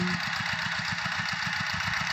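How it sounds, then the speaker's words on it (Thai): Walk-behind tractor engine idling close by, a steady rapid chugging thump at an even rhythm with a constant mechanical hum over it and no voices. "รถไถนาเดินตามนะคะ"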